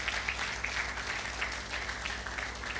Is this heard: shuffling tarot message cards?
no